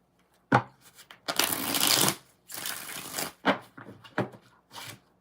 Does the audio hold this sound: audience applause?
no